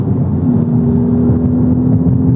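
A Honda Civic FL5 Type R fitted with a Milltek single-resonated exhaust gives a loud, steady low engine drone and whir, heard close and continuous with no talking.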